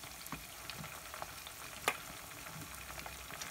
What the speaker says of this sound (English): Onions and the red oil and the tomato paste is frying